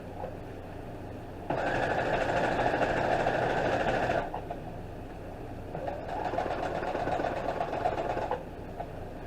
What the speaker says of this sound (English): If you already sewed a line, definitely go back over it to get where you need to go.